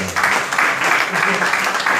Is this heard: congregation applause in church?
yes